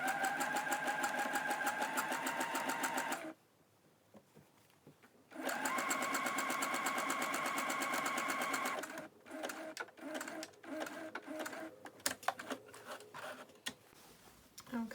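A sewing machine stitches the side seam of a smock dress in two steady whirring bursts separated by a short pause, followed by irregular rubbing and handling noises of fabric as the sewing stops.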